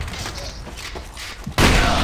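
Grenade explosions in the video game Rush Team: a dense, noisy blast bursts out near the end after a stretch of muffled game noise and thumps, loud and close.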